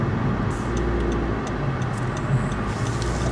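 Steady interior road noise and low engine hum from a Honda Civic hatchback driving at normal speed, continuous and even throughout with no talking.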